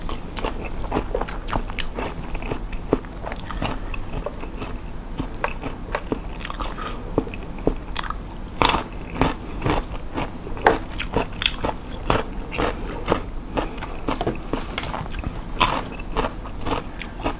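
Someone eats Korean soy-marinated salmon with crispy rice and seaweed up close, producing steady loud crunching bites and chewing with sharp crackly snaps throughout.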